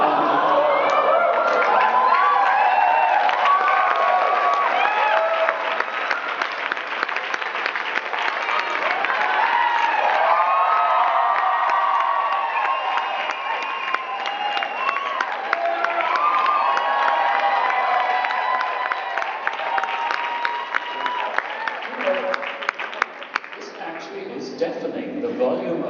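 An audience at a memorial cheers and applauds loudly and without pause, with whoops and shouts over dense clapping from start to finish.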